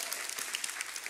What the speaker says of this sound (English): she definitely needs a hand clap